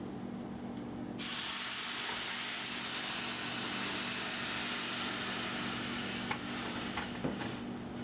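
White wine poured into a hot pan for pasta sets off a sudden loud sizzling hiss that keeps going steadily, close by, with a few small clinks.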